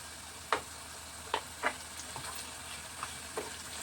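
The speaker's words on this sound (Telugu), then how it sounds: "ఇది ఉడికించిన చికెన్ అండి, ఆయిల్లో వేసుకుందాము. ఆయిల్లో బాగా వేగాలి." Boiled chicken pieces fry in oil with ginger garlic paste, giving a faint, steady sizzle broken by a few sharp ticks and scrapes from stirring, with no talking.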